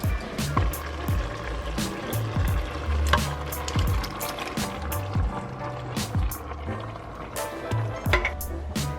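Canned tomato sauce and diced tomatoes go into a pot of goulash, with wet plops and pouring over a steady sizzle, punctuated by scattered clinks and scrapes of a can and utensil against the pot.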